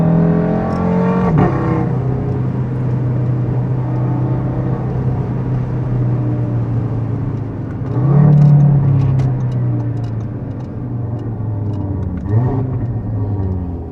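Five-cylinder engine of an Audi RS3 with a modified exhaust, heard from inside during a drive: a steady loud drone with rising rev sweeps, a surge around the middle and a second climb near the end.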